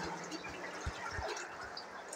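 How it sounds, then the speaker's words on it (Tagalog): Water trickling and dripping inside a cave; faint, steady liquid trickle with a few soft low drips, echoing slightly in the enclosed space, no talking. "Tubig pala ito dito guys."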